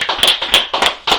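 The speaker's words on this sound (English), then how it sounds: "Y'all clap it up, Commander Junior Hunter." A studio audience at a radio show claps in short bursts, four quick rounds of sharp hand claps in a rapid rhythm, close and loud.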